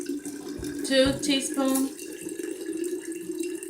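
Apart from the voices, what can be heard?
water poured into a jar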